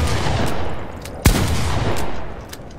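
A single sharp blast from the uncommon Shock 2 shotgun in Fortnite cracks loudly over steady background game noise, followed by a brief ringing decay.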